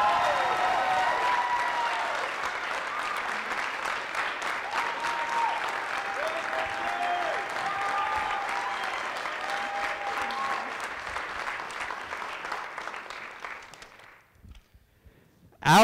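Loud audience applause and cheering at a school pageant for Mr. EBHS 2021 fill a large room with a steady roar that fades away near the end.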